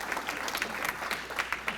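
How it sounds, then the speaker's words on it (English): Applause from the crowd at a city volunteer luncheon and awards event, a steady patter of many hands clapping at moderate distance, brief and even. "So another round of applause,"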